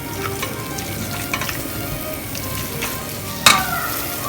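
Squid roast masala sizzles and fries in a pan while being stirred, a steady close crackling hiss with soft scraping and one sharper clack near the end.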